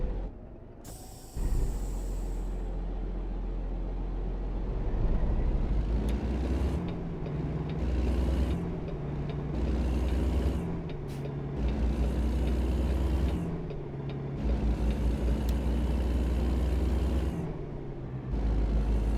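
A truck engine idles and revs in American Truck Simulator, a low steady rumble with rising and falling throttle and repeated hissing bursts like air brakes, no talk.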